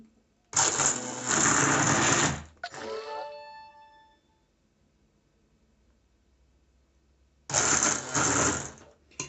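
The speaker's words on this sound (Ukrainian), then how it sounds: "зараз калину переблендерую" Electric blender pureeing viburnum berries, two loud buzzing bursts a few seconds apart with a ringing wind-down and a quiet gap between them.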